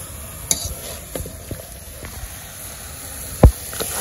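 Mango pickle stirred in a cooking pan in a village kitchen, with a soft, faint sizzle and a few scattered scrapes and clinks of the utensil against the pan, one sharper knock near the end.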